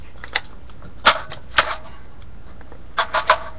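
Small metallic clicks and snaps as a magazine is handled and inserted into an AR-15 rifle, a few sharp isolated clicks followed by a quick cluster of three near the end, close and quiet.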